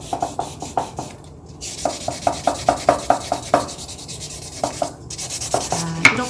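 Sandpaper rubs back and forth over a wooden surface in quick, regular scratchy strokes. The strokes come in rhythmic bursts with short pauses between them, close up and moderately loud, and there is no speech.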